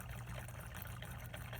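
Gasoline pouring from a can into the tank of a Firman generator, a steady, faint liquid trickle running without a break, with no talk.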